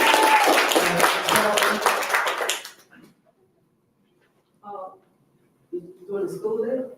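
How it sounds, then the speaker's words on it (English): Dense clapping from a group of people rings out for about three seconds, then cuts off into near silence before speech resumes. "Let's clap it up. Let's clap it up."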